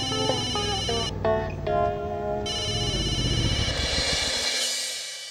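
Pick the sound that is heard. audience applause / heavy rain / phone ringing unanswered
phone ringing unanswered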